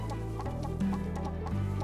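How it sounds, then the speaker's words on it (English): A chicken clucks repeatedly in the video game Lost Sea, close and clear over a steady game music backdrop. "Ow, you freaking chicken!"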